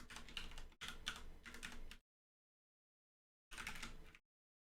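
Quick keystrokes clatter on a computer keyboard in two close bursts, then stop, and a shorter burst follows after a pause of about a second and a half.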